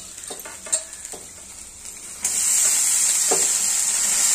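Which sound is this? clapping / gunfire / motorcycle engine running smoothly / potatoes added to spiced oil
potatoes added to spiced oil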